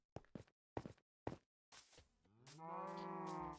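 Minecraft cows moo in the video game after a few blocky footstep thuds, the drawn-out lowing call close and clear at the end.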